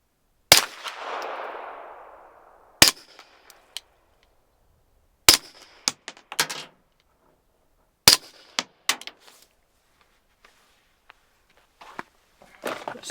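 Flux Defense Raider with an Odessa 9 suppressor fires one supersonic round, then a few subsonic rounds, each a sharp, close, loud crack with a metallic action clack and long pauses between, the later subsonic shots quieter.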